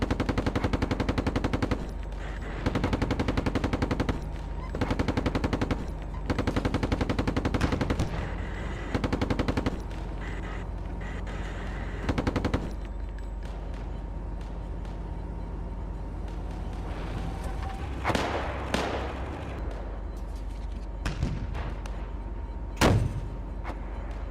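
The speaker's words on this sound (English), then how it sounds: "We're taking fire here." Heavy machine-gun bursts rattle in repeated loud volleys during a tank battle in the simulator Steel Beasts Pro PE, giving way to a lower engine rumble and a few sharp distant blasts near the end.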